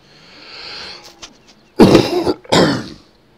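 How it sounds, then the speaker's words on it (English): A man with a worsening cough clears his throat and then lets out two loud, close, harsh coughs after a quieter lead-in, alone without talk. "My cough is getting worse."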